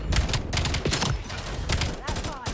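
Rapid bursts of automatic gunfire from the Black Ops 7 video game, dense overlapping shots in quick rhythmic volleys with brief gaps, loud and close throughout.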